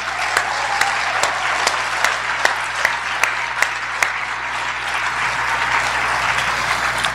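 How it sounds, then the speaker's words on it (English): Sustained applause from a concert audience at a high school winter choral concert, steady dense clapping filling the whole stretch with a few sharper claps standing out, no talking over it. "let's have another round of applause for our soloists."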